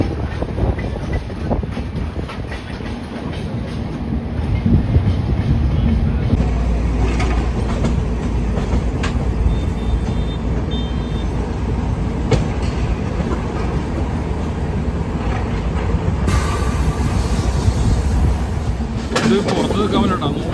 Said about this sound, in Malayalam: Local train, Mumbai local train.